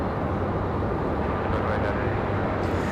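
An airplane takes off from Raleigh-Durham International Airport, heard as a steady, broadband jet roar at a distance. It stays constant throughout, with no talk over it.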